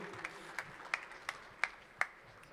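An audience at a stage event applauds a speaker joining them, heard as faint, distant claps that fall into a slow, steady rhythm of about six or seven beats.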